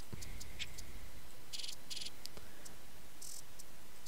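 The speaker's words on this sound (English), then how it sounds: "let's individualize this track so you can just hear this hi-hats" Crisp hi-hat hits programmed in FL Studio for a hip hop beat tick in a sparse, uneven electronic pattern, bright and close, with short bursts of rapid repeated strikes.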